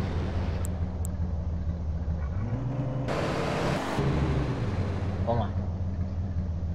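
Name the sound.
car engine in the video game GTA San Andreas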